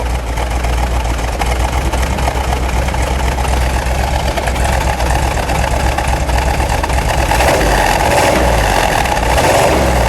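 A 426 Hemi V8 engine in a 1971 Dodge Challenger R/T rumbles loudly at close range, idling with a heavy, lopey burble and occasional throttle blips.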